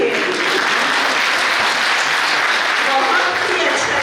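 An audience gives loud, sustained applause at an evening cultural program following a village cricket match, a dense wash of many hands clapping continuously for several seconds.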